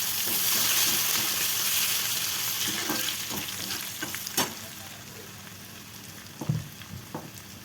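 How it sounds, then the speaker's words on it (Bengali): Nigella seeds and garlic sizzle and fry in hot oil in a home kitchen, a steady close crackle that eases toward the end, broken by a few louder stirring clinks and spatters, with no talk. "এখন আমি তেলের মধ্যে কালো জিরে দিয়ে দিলাম"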